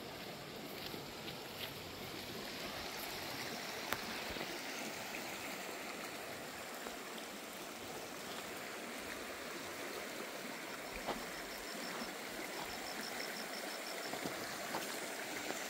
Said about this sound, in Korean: 물소리로 좀 들으니까 시원합니다